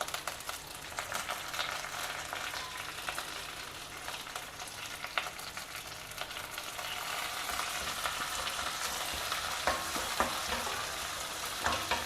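Curry leaves and a spicy green chilli sizzling in oil in a frying pan for an Indian breakfast dish, a steady crackling hiss with occasional sharp pops and stirring scrapes, close and alone.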